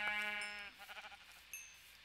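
A sheep in a video game lets out one wavering bleat up close, followed by a short chime-like game sound, with no talking.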